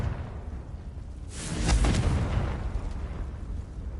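A Confringo fire spell from Hogwarts Legacy bursts into a single loud, close explosion with a deep rumbling boom that swells and then slowly fades, heard alone without talking.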